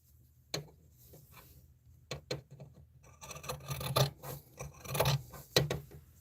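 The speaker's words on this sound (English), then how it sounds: "So I'm just trimming the little edge off of the dish drying mat" Regular scissors snip around the edge of a fabric-like dish drying mat, giving scattered crisp cuts and rasping rubs that grow busier toward the end, close up with no talking.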